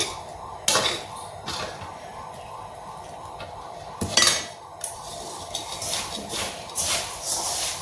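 Puffed rice is folded into hot jaggery syrup in a pan, with a spoon scraping and clinking against the metal in scattered knocks and rustles, close and moderately quiet.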